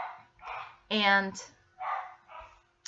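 Several dog barks ring out in a quick sequence, moderately loud and a little distant, with a brief spoken word in between.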